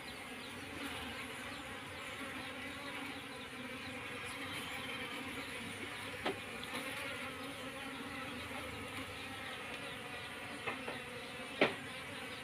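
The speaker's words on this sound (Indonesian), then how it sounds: "ini lebah-lebah ini kita masukkan ke dalam kotak sini" A dense, continuous buzz of many wild honey bees swarming close by in a goat pen as they are moved into a box, steady throughout with a few brief knocks and clicks.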